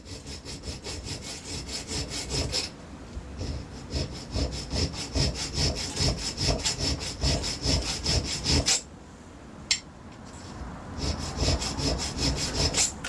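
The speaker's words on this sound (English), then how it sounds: "I'm choosing a square file." A metal plate clamped in a vise is worked with a square file, giving close, steady, rhythmic back-and-forth rasping strokes that pause briefly around the middle before resuming at the same even pace.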